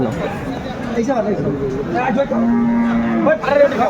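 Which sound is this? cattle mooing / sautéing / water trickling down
cattle mooing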